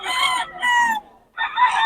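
A young rooster, a stag, crows close by in two bright, strained calls separated by a short pause, with nothing else sounding around it.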